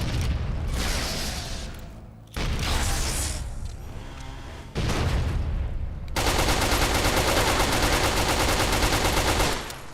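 Gunfire and grenade blasts in Fallout: New Vegas: several loud, dense bursts of shooting and explosions, each cutting off abruptly, then a sustained rattling volley of continuous fire that fills the last few seconds.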